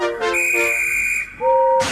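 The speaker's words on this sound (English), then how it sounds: "Rosie watched in awe as the guard eventually blew his whistle, and Gordon set off." A station guard's shrill, steady whistle blast holds for about a second, then a lower two-note toot sounds briefly before a burst of hiss.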